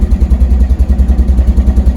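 The small single-cylinder engine of a 1957 BMW Isetta 300 runs after a restart, a loud, close, rhythmic low putter pulsing evenly for the whole stretch.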